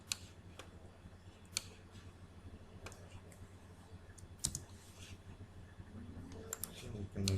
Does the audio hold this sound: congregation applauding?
no